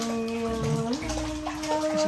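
A baby splashes and kicks water in a home bathtub during a first swimming lesson, with steady close splashing and sloshing under soft background tones and a faint voice.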